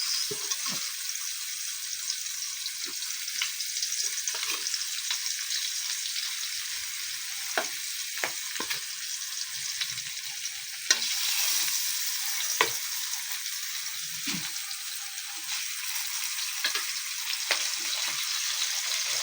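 Milkfish (bangus) frying in a pan, a loud, continuous hissing sizzle held close throughout, with occasional faint taps and crackles of oil and no talk.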